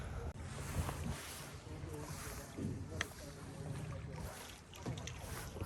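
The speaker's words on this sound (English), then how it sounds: "We're kayaking on the springs today." Kayak paddling on spring water at Silver Springs, Florida: a steady wash of water and wind noise with soft paddle splashes, a few sharper drips, and voices talking faintly underneath.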